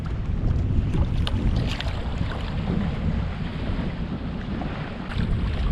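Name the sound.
gusty wind while kayak fishing on a lake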